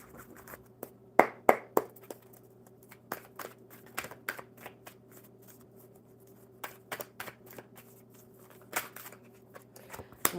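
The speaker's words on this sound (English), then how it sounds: "one more good shuffle for Sina" Deck of playing cards shuffled at a table during a live coffee-and-cards session, with repeated crisp riffles and snaps in quick bursts, close and fairly quiet over a low steady hum.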